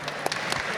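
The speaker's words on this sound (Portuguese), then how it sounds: "uma salva de palmas maior" An audience at a live panel event claps steadily, a dense wash of applause from many hands at moderate distance throughout the brief moment.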